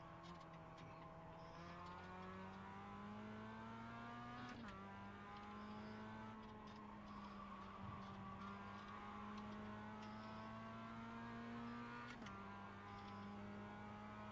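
Mazda MX-5 race cars lapping Tsukuba Circuit in iRacing's Global Mazda MX-5 Cup: a steady engine drone climbs and dips through gear changes, with sharp shifts around the fifth and twelfth seconds and faint tire noise, all fairly quiet with no talk.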